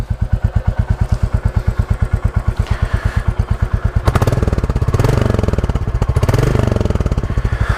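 A 2022 Royal Enfield 350 Classic motorcycle engine idles close by with a steady, loping thump, then revs up and rumbles louder with rising and falling throttle.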